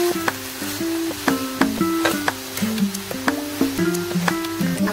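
Grated carrots sauté in ghee for carrot halwa, a steady sizzle broken by repeated clinks and scrapes of a spoon stirring against the pan.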